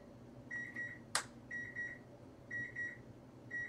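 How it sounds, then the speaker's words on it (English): A kitchen timer beeps in repeated pairs of short high tones at a steady one-second rhythm, with a single sharp clatter between the first beeps, over a low room hum. "I know that this beeping is getting a little annoying"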